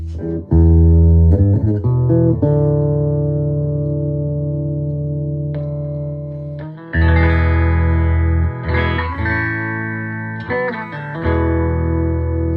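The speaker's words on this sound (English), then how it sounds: "with the dark circuit, it actually sounds like a bass amp." A deep, dark-toned electric guitar played through a Fender tweed Deluxe 5e3 clone amp's dark circuit rings out in sustained chords and single notes, warm and bassy like a bass amp, with slight distortion, played alone up close.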